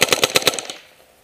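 An Ego 11 paintball marker on full uncapped ramp fires a quick burst of about seven sharp, loud, close pops in rapid succession, then the sound trails off into silence.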